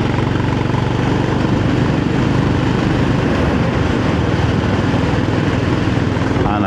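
A Honda GB350S motorcycle engine runs steadily while riding, a loud continuous rumble mixed with wind roar and no clear pauses or gear changes.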